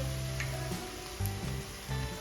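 Stone flower and spices sizzling in hot oil in a pan, a steady close crackling hiss with a couple of brief louder bursts as the spices hit and are stirred.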